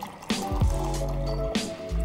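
A big glass being filled with water and lemon juice, with pouring and dripping liquid sounds up close, a steady trickle broken by a few splashy gulps and drips, no talking.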